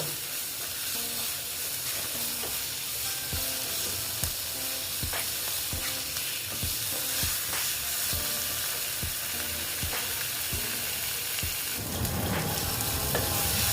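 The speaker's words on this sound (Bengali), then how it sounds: "তারপরে দিচ্ছি এই টমেটো দিয়ে আবার এটাকে আমি ভালো মতন কষিয়ে নেব" Ash gourd frying with turmeric and tomato in a pan, a dense steady sizzle with regular spatula scrapes and taps every half second or so, swelling into a louder hiss near the end, close and without talk.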